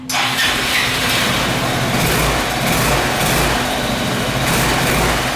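A 250cc Apollo SL250-2 scooter engine cranks and catches, then runs with a steady, rough idle, loud and close throughout with no talking.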